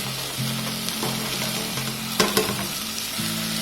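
Mint leaves, coriander leaves and green chilies frying in oil in a pot for prawn biryani give a steady close sizzle, with a couple of brief clinks of a stirring spoon partway through.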